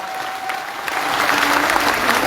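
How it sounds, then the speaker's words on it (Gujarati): A crowd claps loudly and continuously at a fast-breaking ceremony held at a hunger-strike camp, the dense applause swelling slightly after a voice fades beneath it. "એમને પણ જોરદાર તાળીઓથી વધારું"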